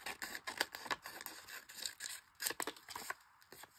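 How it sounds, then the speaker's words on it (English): Scissors cut around a paper backing sheet in a quiet room, with a quick series of faint, crisp snips and paper rustles, some rapid and some spaced out. "then we just go ahead and cut around it"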